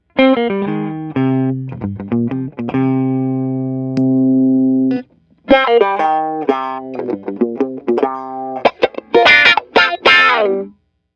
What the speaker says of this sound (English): This is an envelope filter pedal, which just helps my single line sound really funky.